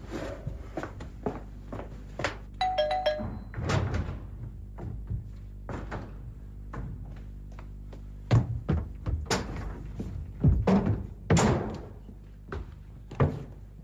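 A brief electronic doorbell ring sounds in a Greek TV comedy, fairly close, set among a string of door thumps, knocks and household movement noises in an indoor room.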